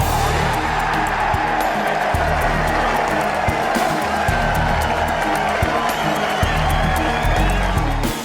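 A large golf gallery at The Open roars and cheers for an eagle putt, a sustained, loud crowd swell with scattered whoops and clapping that holds steady for several seconds.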